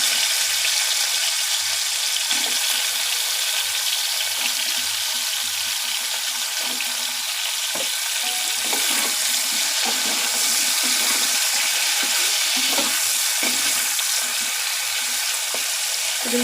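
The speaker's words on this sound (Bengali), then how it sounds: "এবার এই তেলের মধ্যে আমি ধুয়ে রাখা কাঁচা কলাগুলোকেও একইভাবে ভেজে নেব।" Washed raw banana pieces coated in salt and turmeric fry in hot oil, a loud, constant hissing sizzle broken by small pops and faint stirring knocks, heard close up with no speech.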